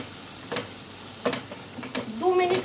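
Corn kernels frying in a pan, stirred now and then: soft sizzling under a few scraping stir strokes, with a brighter sizzle building near the end, close and fairly quiet.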